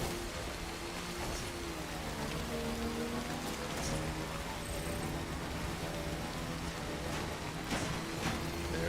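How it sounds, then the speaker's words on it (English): Heavy rain pours down steadily in Death Stranding, a dense, constant hiss of drops on surfaces with no pauses. "Because that is some pretty heavy rain."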